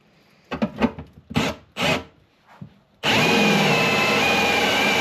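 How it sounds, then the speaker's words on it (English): A worn step drill bit bores a hole through metal while fitting accessories to a Ford XH Falcon, a few short grinding bursts followed by a loud continuous high drilling whine, close by. "I'm just going to belt a couple different sides drill bits through here first"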